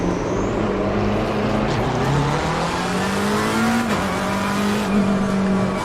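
Race car pulling out of the pits in Assetto Corsa Competizione, a steady loud engine drone rising and falling in pitch through gear changes, with faint tire noise and no talk.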